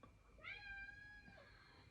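A house cat gives a single drawn-out meow, close and clear but fairly quiet, over a low background hum.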